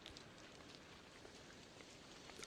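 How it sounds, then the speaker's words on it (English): Rain falling in the video game Dragonwilds, a faint, even hiss of dense drops pattering on surfaces, steady throughout with no clear voices. "it's starting to rain"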